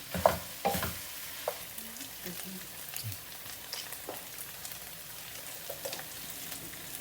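Chicken frying with masala in a pan, Andhra style, as a spoon stirs and scrapes through it, producing irregular knocks and scrapes over a faint steady sizzle.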